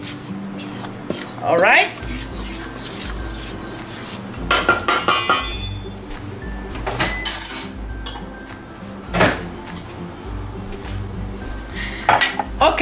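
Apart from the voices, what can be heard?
mixing dry ingredients together in a bowl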